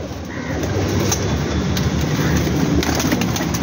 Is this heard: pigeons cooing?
yes